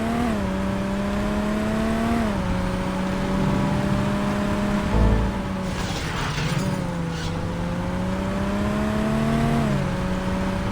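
A car drives in Saints Row on the Xbox 360, its engine holding a steady whine that rises and dips with gear changes, with a brief thump and a scatter of crunching noise in the middle.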